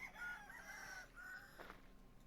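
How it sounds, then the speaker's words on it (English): A rooster crows in the farming game Vintage Story, a drawn-out cock-a-doodle-doo with wavering tones, followed by a shorter second call, faint and somewhat distant, with no talk. "Is that more than one rooster I hear?"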